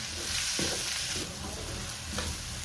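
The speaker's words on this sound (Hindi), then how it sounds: "प्याज को भी अच्छे से फ्राई कर लेंगे।" Sliced onions frying in a hot pan for a turmeric curry, giving a dense, continuous, close sizzle with a few soft stirring bumps.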